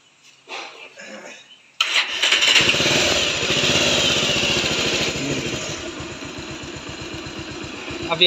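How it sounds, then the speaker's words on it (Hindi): A Bajaj Pulsar 180 motorcycle engine cranks briefly, then catches and settles into a steady, close idle with a rapid even putter. "अब यहाँ से हमने बाइक को स्टार्ट किया"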